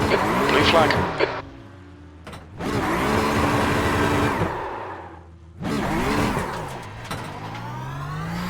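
A Porsche Cup race car in iRacing squeals as its brakes lock up, tyre noise and engine roar rising and falling in three loud bursts with gaps, while a voice talks over it.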